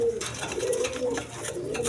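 Cream-colored male pigeons coo in a low, throaty, wavering drone, a few rising and falling phrases up close amid soft room noise.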